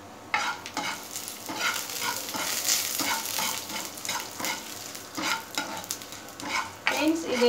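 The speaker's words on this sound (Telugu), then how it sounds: "జీలకర్ర కూడా కొంచెం వేసుకొని ఇప్పుడు వీటన్నిటిని బాగా వేయించేసుకుందాం" Fenugreek and cumin seeds fry and are stirred in a pan, giving a steady close sizzle broken by repeated scraping strokes, with no talking.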